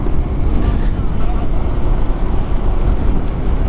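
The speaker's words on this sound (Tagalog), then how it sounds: "Ang ingay ng motor ni Kuya Arden." Loud, rough motorcycle engine noise roars steadily up close, a continuous gritty rumble from riding, with faint voices underneath.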